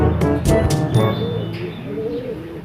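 Racing pigeons coo up close after returning from a 118 km race, with low, rolling calls and a few soft wing flutters in the first second.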